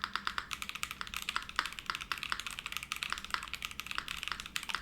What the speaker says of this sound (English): The spacebar, I think, is probably the best I've heard on this size keyboard